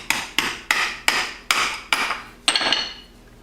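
A hammer punches out a motorcycle exhaust baffle: seven sharp metallic blows at an uneven pace, each ringing briefly before fading, close and loud with no speech.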